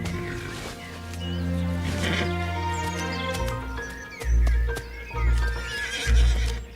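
A Franches-Montagnes horse lets out a long, loud, wavering whinny, followed by heavy close hoof thuds in an uneven clip-clop rhythm, with no talking.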